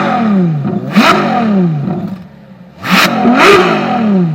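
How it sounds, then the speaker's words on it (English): A Ferrari LaFerrari V12 revs hard in several sharp blips, the engine note climbing and falling with a brief dip to near idle before two more loud, close rises. "This is how a Ferrari LaFerrari sounds in real life."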